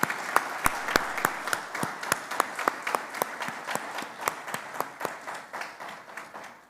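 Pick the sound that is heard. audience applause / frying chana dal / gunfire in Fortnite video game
audience applause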